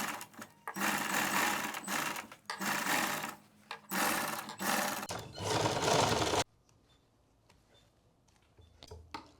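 A sewing machine stitches the neckline of a suit in several short, close bursts separated by brief pauses as the fabric is turned at a corner, then falls to near silence.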